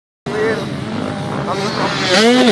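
A 250 two-stroke dirt bike revs hard as the rider pulls a wheelie, its engine whining up and down in pitch, with voices talking over the riding.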